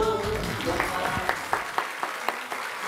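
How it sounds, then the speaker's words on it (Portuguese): Renata claps her hands in a steady beat of sharp, evenly spaced claps, entering after a moment of voices and background sound at a family programme and continuing alone to the end. "Agora eu gostei da Renata batendo palmas."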